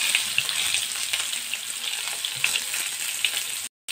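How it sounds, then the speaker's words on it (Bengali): Long, slender eggplants sizzling in hot oil in a pan, a dense, steady, close frying hiss that stays loud throughout before cutting out briefly at the very end. "তেল গরম হয়ে গেছে। এবারে দিয়ে দিচ্ছি আমি বেগুনগুলো।"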